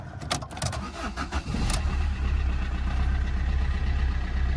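A car with 44,000 miles cranks briefly, then catches and settles into a steady, loud idle, close by and with no talking.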